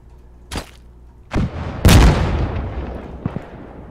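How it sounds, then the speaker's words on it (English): Several loud gunshots crack in quick succession in the video game Insurgency: Sandstorm, with sharp bursts and echoing booms trailing off, followed by a couple of fainter distant shots. "There's gunfire."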